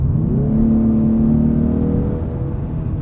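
A 2020 Ford Mustang EcoBoost with the High Performance Package accelerates, its four-cylinder engine giving a steady, loud rising drone with a clear climbing tone, heard continuously from inside the car.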